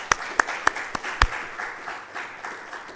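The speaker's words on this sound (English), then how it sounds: "Let's give it a applause." Scattered applause from a health systems innovation conference audience, a few sharp claps standing out at first and then settling into a thin, soft patter that trails away over about three seconds.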